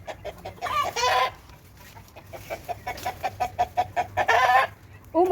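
A chicken clucks repeatedly in a garden with lemon and dwarf banana trees, a rhythmic run of close, clear clucks with a couple of louder squawking bursts.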